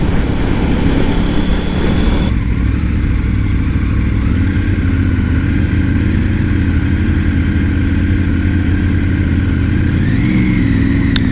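A BMW F850 GS motorcycle is ridden at steady speed, its engine droning loud and continuous with rushing wind, and the pitch rises briefly near the end as the rider accelerates.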